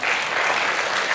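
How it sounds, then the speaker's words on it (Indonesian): Sustained audience applause at a church gathering, a dense, even wash of many hands clapping close by for the whole brief moment. "Beri tepuk tangan buat Bapak kita."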